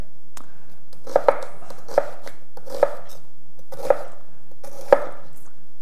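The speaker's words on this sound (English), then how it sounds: "And we'll just chop that up a little bit more fine." A knife chops red onion on a cutting board: six sharp, close thuds with a short stretch between each, spaced about a second apart, over a quiet background.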